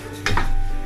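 A brief metallic scrape of a utensil against a pan while rice is fried with peanuts and peas for pulao, one short clink over a low hum.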